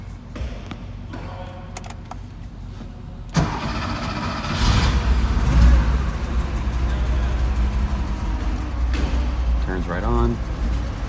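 A 1972 Porsche 911 T with a 2.4-liter engine cranks and fires about a third of the way in, then settles into a steady, loud idle up close, with a brief rev and faint talk near the end.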